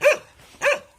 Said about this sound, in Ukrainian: Вибачаю, що собака гавкає.